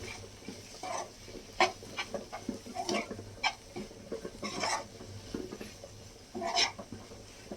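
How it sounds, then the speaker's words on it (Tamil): Onion, tomato and masala sauté in a pan for egg thokku, with soft intermittent stirring scrapes and faint sizzling, quiet and close, with no talking. "இந்த மசாலாவோட பச்சை வாசனை போகிற வரைக்கும் லைட்டாக வதக்கிக்கோங்க"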